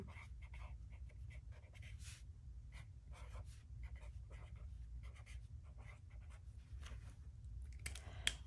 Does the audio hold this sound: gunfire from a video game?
no